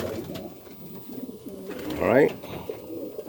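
Racing homer pigeons, young ones and old breeders, coo in a loft, with soft throaty burbling throughout and a louder rolling coo near the middle, close by, as someone speaks briefly.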